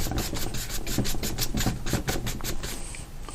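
Paint rubbed hard onto a painting surface, a close rasping scrub in quick regular back-and-forth strokes, about four per second, with no voices.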